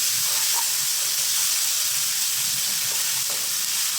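Pork and crab paste sizzle steadily in a pan as they are stirred for a water spinach stir-fry, a constant close hiss with faint scraping and no talk.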